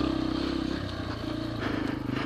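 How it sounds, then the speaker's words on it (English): A Yamaha TTR125 dirt bike runs close by, its small engine giving a steady, loud, buzzing drone with slight rises in pitch as it is ridden. "This little bike is so much fun."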